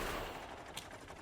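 Sustained gunfire from turrets and a tank in the video game Factorio, a dense continuous rattle of shots at moderate level with no talk over it.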